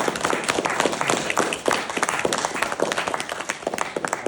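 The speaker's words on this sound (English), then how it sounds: "If everybody can just give Roger a round of applause, thank you for coming." An audience gives a round of applause at a small gathering, individual hand claps clearly distinguishable in a close, moderately sized crowd, steady and crisp throughout.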